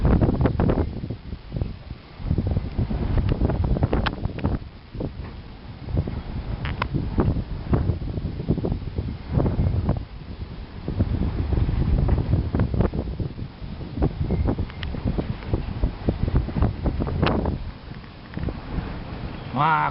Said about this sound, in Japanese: まだ強い風が吹いています。